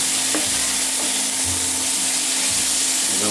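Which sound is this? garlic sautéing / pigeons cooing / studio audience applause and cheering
garlic sautéing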